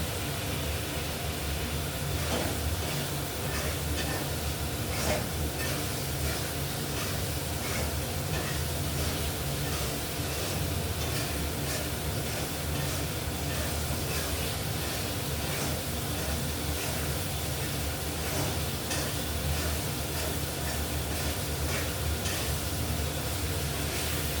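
Spice paste frying in a pan for a rohu and potato fish curry gives a soft, steady sizzle and hiss that holds at an even level for the whole stretch, with no voices.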